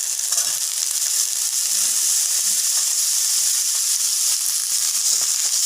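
Potatoes fry in hot oil with whole cumin seeds for a dried shrimp and ridge gourd dish, giving a loud, continuous, bright sizzle that stays even throughout with no talk over it.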